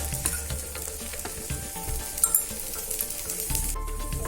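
Wheat dosa batter sizzles steadily on a hot pan, a close, continuous frying hiss with a few light clinks and scrapes, and no talking.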